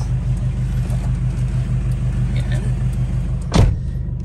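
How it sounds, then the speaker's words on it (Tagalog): A Toyota HiAce engine idling after a remote start, a steady low pulsing rumble close by, with a sharp brief clunk near the end. "naka-start na yung makina"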